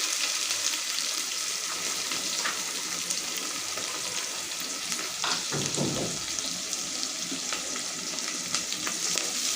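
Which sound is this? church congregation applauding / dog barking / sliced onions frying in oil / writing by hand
sliced onions frying in oil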